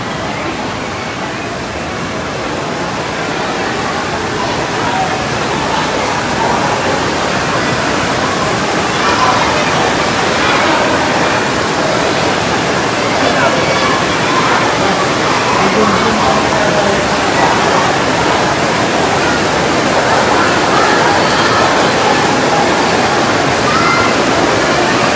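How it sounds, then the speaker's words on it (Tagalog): Heavy rain pours steadily outside an evacuation center during a flood, a loud, unbroken broadband roar that barely changes across the whole stretch. "Naririnig po natin, medyo lumakas na naman po ang pag-ulan."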